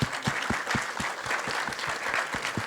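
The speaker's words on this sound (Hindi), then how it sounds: "ताली मार के दिखाओ." Media audience at a film trailer launch clapping in a loose, fairly even rhythm, individual claps distinct and near, with light crowd murmur underneath.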